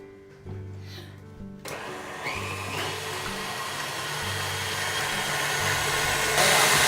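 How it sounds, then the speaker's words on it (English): A stand mixer whips egg whites in its bowl, giving a steady whirring motor drone with a low hum that holds through the clip and slowly grows louder, with no talking. "in the bowl of stand mixer, beat the egg white, which we already have here"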